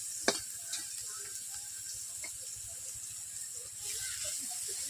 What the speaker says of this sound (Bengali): ডিমটাকে আমি 5 মিনিট ধরে ভেজে নিচ্ছি।